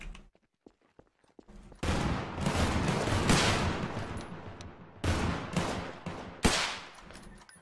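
Garry's Mod roleplay firefight: after a few faint clicks, loud rapid bursts of gunfire crackle continuously for several seconds, with fresh volleys and sharp single shots near the end.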